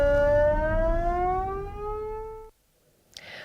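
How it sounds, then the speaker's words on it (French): A loud, steady wailing civil defence alarm siren during a federal test, rising slowly in pitch, then cutting off abruptly, followed by near silence and a faint noise at the end. "Ceci est un test fédéral des sirènes d'alarme."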